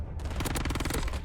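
Rapid automatic weapon fire in Warzone rattles off in a fast, dense string of about ten close, loud shots within a second, steady and unbroken.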